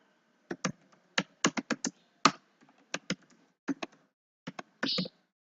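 Typing on a computer keyboard to enter a name in Notepad: irregular bursts of close, crisp key taps with short pauses between runs, alone without talk.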